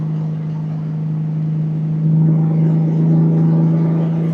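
A Honda Goldwing motorcycle engine hums steadily at about 3,000 RPM in fourth gear while riding, a strong low drone with road rumble that swells slightly partway through.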